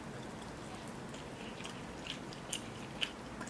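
Cucumbers being eaten by hand in a mukbang, heard as a few soft, crisp bites and quiet chewing, faint and close against a low background hiss, with no talking.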